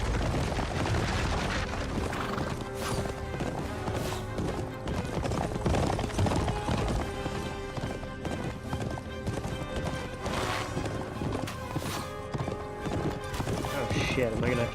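Horse-drawn carriage in Kingdom Come Deliverance 2, steady hoof clip-clop and rolling under a dense, loud game soundscape with music and scattered booming hits.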